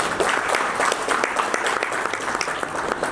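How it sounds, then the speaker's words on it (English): Audience applause at an international education talk show panel, a dense steady wash of many hands clapping throughout, moderately loud with no speech over it. "Can we have a big round of applause for them?"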